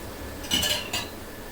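A spoon scrapes and clinks against a pan while a sweet milk mixture thickened with cornflour is stirred for kanchagolla, two brief metallic stirring bursts close by, with no talk.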